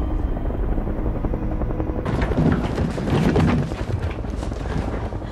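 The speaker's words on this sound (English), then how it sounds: "Helicopter." A helicopter's rotors thrum loudly and continuously nearby, a dense throbbing roar that swells briefly in the middle.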